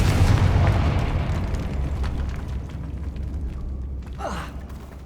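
A fire-spell explosion in Hogwarts Legacy bursts loudly at the start, then its deep rumble slowly fades, with a brief sweeping whoosh near the end.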